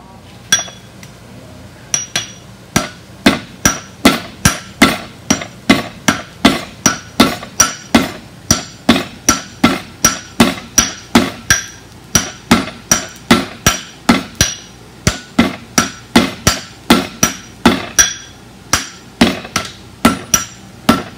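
A blacksmith hammers steel while drawing out the end of a forged hook, a long, steady run of loud, ringing metal-on-metal blows struck close in an even rhythm, roughly two per second.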